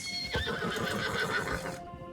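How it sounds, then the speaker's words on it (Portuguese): A horse in the video game Red Dead Online on PS5 gives a loud, full whinny over a steady patter of clip-clopping hooves, both close and clear, with no talking. "Esse cavalo agora é meu."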